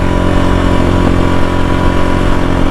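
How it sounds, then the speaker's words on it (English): A KTM 500 EXC-F dirt bike engine rumbles continuously up close, its exhaust burbling and popping softly on deceleration as it runs steady and loud. "Little bubble in the exhaust on deceleration."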